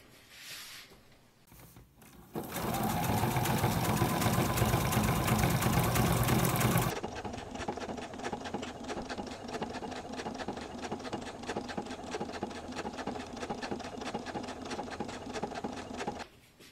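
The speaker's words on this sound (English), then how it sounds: "Now top stitch at 1/8 inch from your vinyl." A sewing machine top-stitches a vinyl wallet 1/8 inch from the edge: a loud, fast mechanical run of a few seconds, then a steadier, quieter stitching hum that continues to the end.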